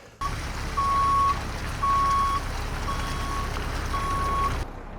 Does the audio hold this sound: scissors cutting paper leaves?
no